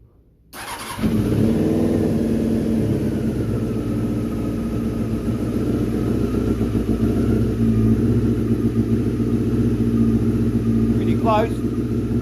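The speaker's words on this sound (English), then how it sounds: "Now, the new Harleys." A new Harley-Davidson motorcycle engine fires up and idles with a deep, loud, lumpy rumble that holds steady for about eleven seconds, close by and alone, with a brief higher chirp near the end.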